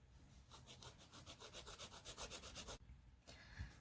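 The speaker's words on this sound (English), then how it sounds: "I want to take my file and get them straight enough" A nail file rasps back and forth across fingernails during a dip powder manicure, a quick, even run of close, soft scratching strokes that pauses briefly and then resumes, faint and with no talking.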